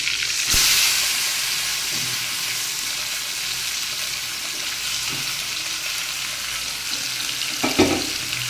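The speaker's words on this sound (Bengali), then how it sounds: "এখন এই পর্যায়ে আমি দিয়ে দেবো এই যে সিদ্ধ করে রাখা ডাল, এটাকে দিয়ে দেবো" Boiled chana dal goes into bottle gourd frying in a pan, giving a steady, loud sizzle and hiss with a few faint stirring clinks and one louder clatter near the end.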